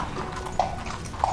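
Horse hooves clip-clop on a ranch, two distinct close hoof strikes spaced apart over a steady low background.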